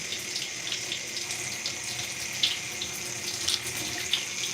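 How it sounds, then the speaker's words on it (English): Running water from a tap rinsing conditioner out of curly hair, a steady close splashing hiss with small irregular spatters, alone without talk. "So now that we have rinsed the majority of the conditioner out"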